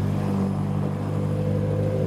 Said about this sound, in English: S14 rolling past all of the Cobras from the day.